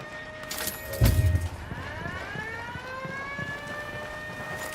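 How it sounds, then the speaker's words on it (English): Rising and falling wail of an alarm siren in the video game Ghost Recon Wildlands, sweeping upward in repeated tones after a loud thump, sounding at a distance and alone. "The alarm."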